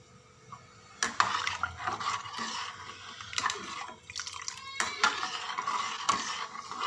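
Roti custard being stirred in a pot over a medium-low flame, giving close, irregular scraping and clinking of a spoon against the pot with wet, dripping liquid sounds, steady throughout and with no talking.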